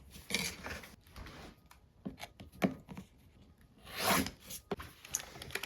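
Quilt fabric being trimmed along a sewn line, giving brief scraping and cutting strokes in irregular bursts, close and fairly quiet, with no one talking.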